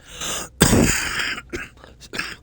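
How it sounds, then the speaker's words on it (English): A single sharp cough bursts out, followed by a few softer throaty sounds and brief breaths, close to the microphone. "Silly cough."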